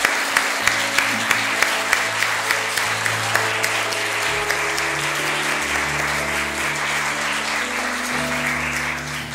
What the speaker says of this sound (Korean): 우리 서로를 위해서 우리 사랑의 박수 합시다